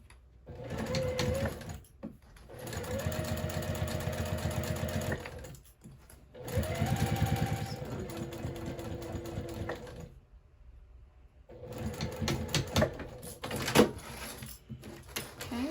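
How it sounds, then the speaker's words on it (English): A sewing machine stitches a 3/8 inch seam on a bag, running in three long bursts separated by brief pauses, with motor whir and rapid needle chatter, close and steady. "So now I'll go ahead and sew at 3/8 inch seam allowance."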